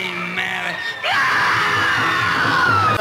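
Excerpt of a 1960s single, a Joe Meek production, with a loud screaming vocal over dense, bright recorded music that swells after a brief opening.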